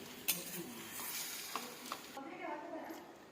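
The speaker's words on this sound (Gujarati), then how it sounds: "હવે એને સારી રીતે આપણે બધું મિક્સ કરી લઈશું" Patra filling being stirred after sugar and squeezed lemon are added, a soft continuous scraping and mixing with faint sizzle-like texture and a few light clinks, close and steady.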